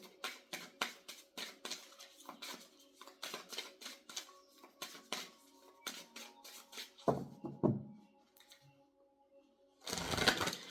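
Rapid riffling bursts of tarot cards being shuffled, repeated in quick rhythmic runs, followed by a few louder handling thumps and a final shuffle burst.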